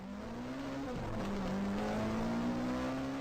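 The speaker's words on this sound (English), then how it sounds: "hearing yelling and revving gaining behind us" A car engine revs steadily and loudly, its pitch dipping briefly then climbing again as it keeps accelerating, a close, continuous drone with no voices.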